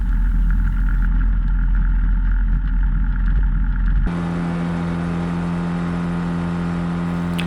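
Rotax 503 two-stroke engine of a Quicksilver GT400 ultralight aircraft running up to takeoff revs, a loud continuous drone that shifts abruptly midway to a higher, steadier whine.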